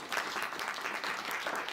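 An audience at a university talk in Ukraine gives steady applause, a dense crowd of clapping hands sustained throughout, fairly close and with no speech over it.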